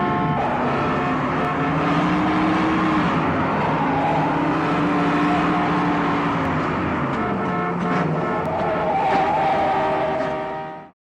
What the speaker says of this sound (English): Anderson delivers two of the best car chases in years